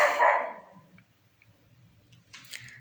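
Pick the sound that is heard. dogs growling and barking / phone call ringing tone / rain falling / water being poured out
dogs growling and barking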